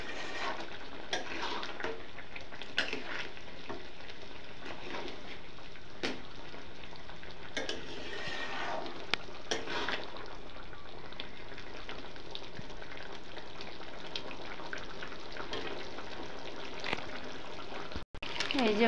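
Chicken kosha curry with gravy simmers in a pan, giving a soft, steady bubbling sizzle close by, broken by faint scrapes and stirring clinks and ending in a sharp knock.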